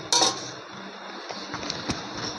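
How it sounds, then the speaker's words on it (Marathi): Metal lid set onto a pot of steaming modak dough on a stove, one sharp clink up close followed by faint scraping and a soft tap, with no talking. "त्याच्यावरती थोडा वेळ मी झाकण ठेवते."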